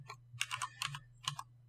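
Code is typed on a computer keyboard for a Java program, several quick key clicks in short bursts with brief pauses between them, close and quiet over a faint low hum.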